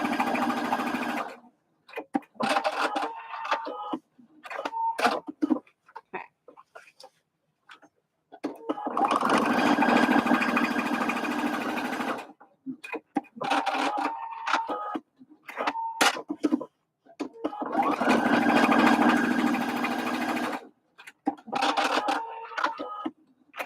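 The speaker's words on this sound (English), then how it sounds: "I am using my machine's little doohickeys where I can push a button here and it cuts and blocks my stitch for me" A home sewing machine stitches a bucket hat lining, running in several long whirring bursts broken by short pauses and clicks as the stitch is locked forward and back, close and steady.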